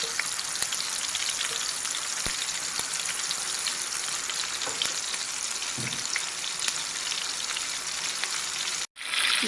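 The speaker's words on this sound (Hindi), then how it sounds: "अब कोफ्तों को हम इस तरह फ्राई कर लेंगे" Beef kofta meatballs fry in hot oil with a close, steady, dense sizzle that crackles continuously, dropping out briefly just before the end.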